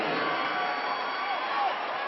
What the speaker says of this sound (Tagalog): the USC crowd getting ready to erupt